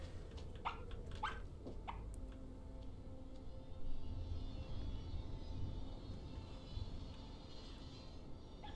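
A fox barks in the video game Rime, giving a few sharp yips early on that fade into soft whimpers over a steady ambient hum and rushing background.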